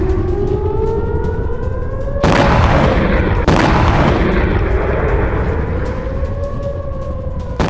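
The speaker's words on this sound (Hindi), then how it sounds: "ये देखिए, ईरान का बैलिस्टिक मिसाइलों से बहुत बड़ा हमला" An air-raid siren wails in rising and falling tones while two heavy booms from an Iranian ballistic missile attack on a US base in Jordan burst through, each leaving a long rumbling wash beneath the steady siren.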